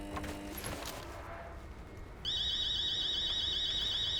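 A looping electronic alarm tone starts partway through in the video game Chernobylite, a steady repeating high-pitched wail that cuts in loudly over quieter game ambience.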